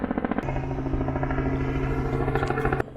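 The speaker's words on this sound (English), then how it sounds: "there's a helicopter very rudely flying right above me." A helicopter flies low overhead, its loud, throbbing rotor drone pulsing close by, with a sharp change in tone near the end as it passes.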